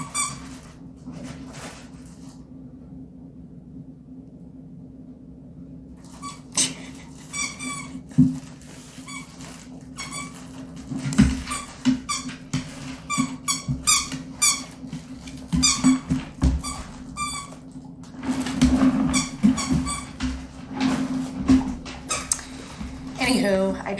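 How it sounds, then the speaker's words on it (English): A dog plays with a squeaky toy indoors, producing repeated sharp squeaks in irregular bursts, some quick and clustered and others spaced apart, close by over a low steady room hum. "it's time to use a squeaky toy"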